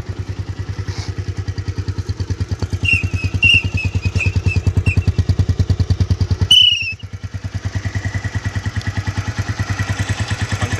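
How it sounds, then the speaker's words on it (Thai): A Phantom 200 motorcycle engine idles close by with a loud steady rhythmic thumping putter, a brief rev blip midway, running alone without talk. "ลองฟังเสียงเครื่องดู"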